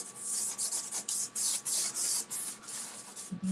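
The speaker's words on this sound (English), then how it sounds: "I'm doing some sanded surface here." Sandpaper rubbing over a painting surface laid with an orange base, a steady run of rasping back-and-forth strokes in quick succession, close and fairly quiet, with no voices.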